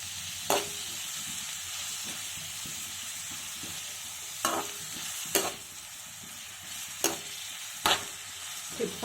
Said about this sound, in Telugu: ఇప్పుడు మనం మూకుడు పెట్టి ఉల్లిపాయలు అవి ఫ్రై చేసుకుందాం